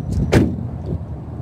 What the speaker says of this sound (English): That door sound a little flat.